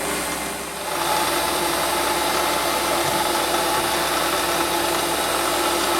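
A Warco metal lathe runs steadily while turning a taper, giving an even, continuous mechanical hum and whir at close range that settles in after a brief dip, with no talking.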